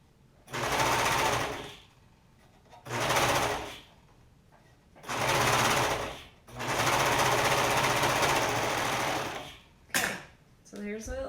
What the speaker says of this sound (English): today we're sewing it up